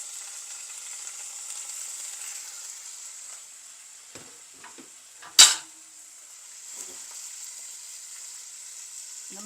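Chicken pieces frying in a pan with ginger garlic paste for Hyderabadi biryani, a steady soft sizzle throughout, broken by one sharp clatter of utensil against the pan midway.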